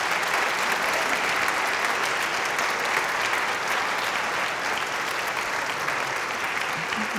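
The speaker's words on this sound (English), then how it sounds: "I just wanted a round of applause for Michael" Sustained, loud applause from a large audience at a choral tribute concert, a dense, even wash of clapping that holds steady throughout without letting up.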